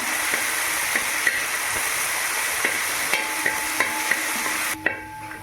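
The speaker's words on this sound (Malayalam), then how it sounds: "നമ്മൾ ഇഞ്ചിയും വെളുത്തുള്ളി ഇട്ട് കൊടുക്കാം കേട്ടോ. നമുക്ക് നന്നായിട്ടൊന്ന് ഇളക്കിയിട്ട് മൂപ്പിച്ചെടുക്കാം." Ginger and garlic sauté in hot oil for a chicken curry, a steady sizzle punctuated by regular scraping and tapping of a spoon against the pan, ending with a louder clank before the sizzle drops away.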